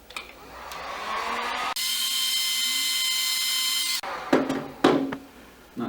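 Heat gun blowing a steady, loud hiss for a few seconds while heating shrink tube, with handling clatter and light knocks before and after the burst of hot air.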